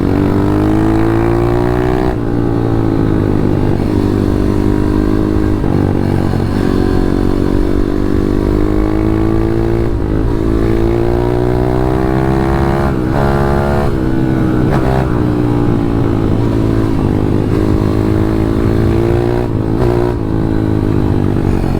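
A KTM 150 RXF motocross bike rides continuously on bumpy ground, its two-stroke engine loud and close, revving up and down in steady surges throughout.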